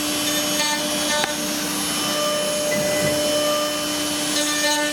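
A CNC machine running at full speed under Mach3 control makes a loud, steady, close whine and roar that holds without a break, with faint higher tones on top.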